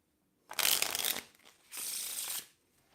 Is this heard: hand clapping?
no